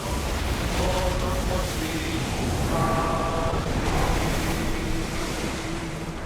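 A sailing warship in Assassin's Creed Odyssey surges over open sea, with a steady wash of surf and wind roaring throughout. Crew voices shout over the water noise.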